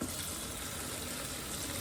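Spinach leaves being rinsed under a running kitchen tap for carbonara, a steady close gush of water splashing into a sink with no pauses and no voices.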